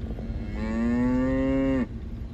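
A single cow gives one long, loud, close moo lasting over a second in an open field, with a quiet outdoor background before and after.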